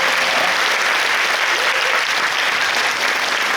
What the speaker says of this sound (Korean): 박수로 감사하겠습니다